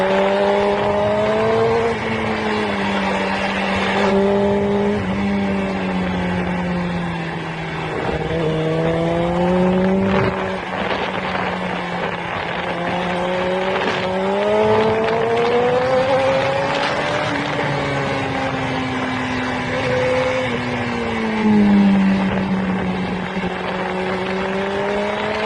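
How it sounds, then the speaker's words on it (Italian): Motorcycle engine revving and shifting as it rides past, a loud nasal drone rising and falling in pitch through repeated accelerations over about twenty-five seconds, close and continuous. "Sentire il rumore della moto mi fa venire i brividi"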